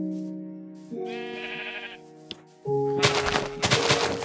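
Minecraft sheep in the CrazyCraft modpack bleat in a few short, wavering calls as they are killed, followed by a burst of sharper, noisier game sounds.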